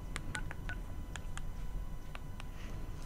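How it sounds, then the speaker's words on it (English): Telephone keypad dialing tones beep in a quick irregular series of short bursts, clearly audible over a low background hum while someone places a call. "Okay, I'm calling her now."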